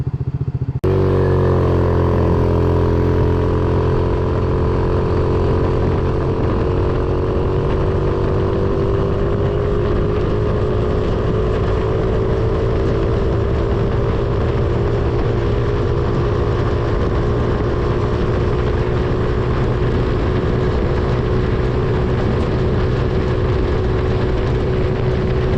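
A GY6 150cc scooter fitted with a Glixal CDI runs at full throttle on a test run, a loud, steady engine drone that rises slightly in pitch and holds for the whole stretch.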